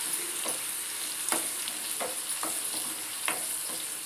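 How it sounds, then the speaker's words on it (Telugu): Garlic deep frying in hot oil for a tomato dal tempering, a steady high sizzle with occasional stirring scrapes, moderately close and without talk. "ఎల్లిపాయలు మంచిగా ఆయిల్లో డీప్ ఫ్రై చేయాలి"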